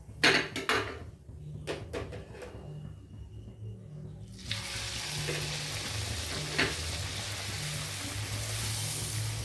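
Puris deep frying in hot oil, a few clinks from a pan or utensil at first, then a loud, steady sizzle and crackle of frying that fills the rest, close and without talk.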